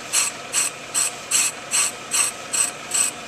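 A ratchet clicks on a brake lathe while a brake rotor is being refinished: eight short, evenly spaced mechanical bursts, close and crisp, with no talking.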